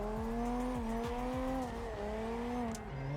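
Tuned Toyota Chaser in the CarX racing game, its engine droning steadily while the throttle is feathered, with repeated short pitch drops and rises in the revs and faint tire noise throughout.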